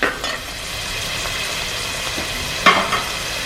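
Onions frying in a pan for Kerala-style beef varattiyathu, a steady close sizzle with a few stirring scrapes, one sharper clatter near the end, no talking.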